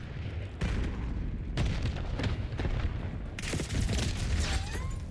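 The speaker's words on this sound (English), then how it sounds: "Concussion grenade out." A concussion grenade detonates in a video game shooter, one of several loud booming bursts amid ongoing gunfire and battle noise, with chaotic overlapping blasts.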